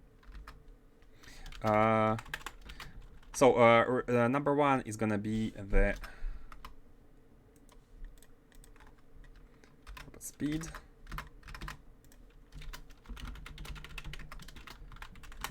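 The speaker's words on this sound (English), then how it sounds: "while I'm typing the questions" Rapid clicking of a computer keyboard continues steadily at close range, clattering quietly under and between stretches of a man's speech.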